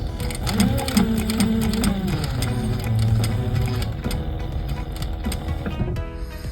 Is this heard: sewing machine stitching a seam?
yes